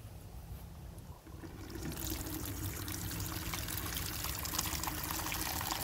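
Tap water pours steadily into a container to hold freshly cut amaranth stems at home, a continuous rushing splash that starts after a brief quiet moment and stays loud and close.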